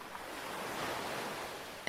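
Ocean waves wash in a soft, continuous hiss of surf with a gentle swell near the middle and a light breeze over it, steady and calm throughout.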